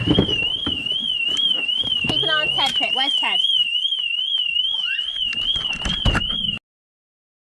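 A loud family camper van alarm wails continuously with a rapid warbling tone while people talk over it, then it cuts off abruptly.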